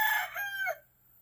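A game chicken rooster crows once, a loud, close cock-a-doodle-doo lasting under a second and then trailing off into quiet.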